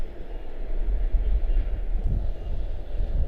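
Broad, steady low rumble of a jet airliner rolling down runway 19 Center at Washington Dulles for takeoff, heard from a distance as continuous engine roar with no voices.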